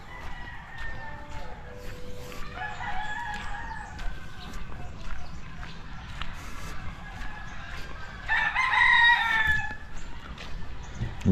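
A labuyo junglefowl rooster crows, with a drawn-out call around the middle and a louder, clearer crow near the end, set against faint background noise and other bird sounds.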